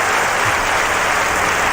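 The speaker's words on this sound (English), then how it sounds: "Gotta give you guys a clap there." A short burst of steady hand clapping from a small group closing out a podcast episode, dense and fairly loud, with no talking over it.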